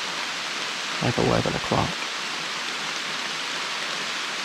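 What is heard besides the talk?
heavy rain pouring down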